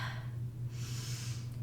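A slow, audible breath during a yoga pose, a close airy inhale-exhale over a low steady background hum.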